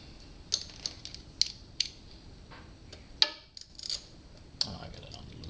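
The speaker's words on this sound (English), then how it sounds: "But tighten up this hose clamp." Tightening the radiator hose clamp on a Suzuki V-Strom 1000 gives a run of small metallic ratchet clicks and ticks. They come at irregular spacing, close by and fairly quiet, with no talking over them.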